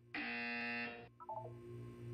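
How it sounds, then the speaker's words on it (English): A loud, steady electronic buzzer sounds for about a second in the Portal 2 video game, followed by a few softer short tones over a low hum. "You will hear a buzzer."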